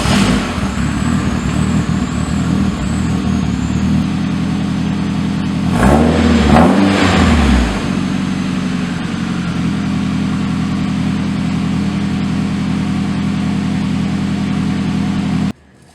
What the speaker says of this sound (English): next up we're going to do straight pipe sound test.